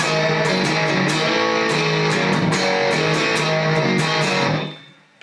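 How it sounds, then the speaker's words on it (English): Electric guitar through an amp driven slightly harder by a Rocket Analog D overdrive pedal set for low gain, playing a sustained, mildly crunchy passage with steady picked notes that rings out and fades near the end. "kicking on the Analog D from Rocket, which is not set with a lot of gain, it's just designed to push the amp that little bit harder"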